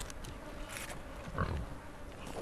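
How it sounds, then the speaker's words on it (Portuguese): Pig in a video game oinking while eating meat, a brief low grunt standing out near the middle over a dense, murky game ambience. "O porco tá comendo carne?"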